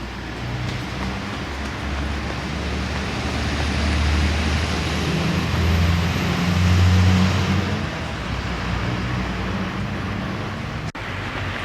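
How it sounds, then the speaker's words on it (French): Steady car traffic rolling along Boulevard des Pyrénées, a low continuous road rumble with engines swelling as vehicles pass close by, no voices. "Les voitures peuvent maintenant circuler jusqu'au square d'Aragon."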